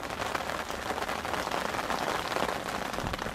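Rain patters steadily on surfaces at a lakeside carp fishing spot in Italy, a dense, even hiss of drops close by with no other sounds.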